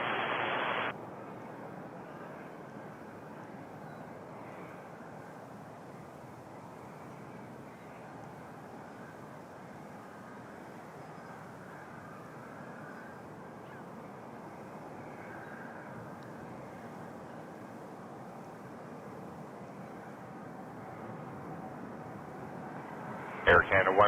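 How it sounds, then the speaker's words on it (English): A Boeing 787 rolls on the runway at Toronto Pearson airport, its engines a steady, distant broadband roar that holds for over twenty seconds while faint air-traffic radio chatter plays under it. "And here comes the 787"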